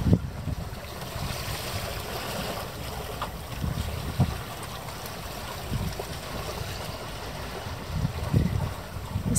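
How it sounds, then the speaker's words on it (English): Open sea heard from a sailboat drifting with the wind near Zante: a steady low wash of water and wind rumble against the hull, with occasional louder swells and gusts and no voices. "you can like hear the sea"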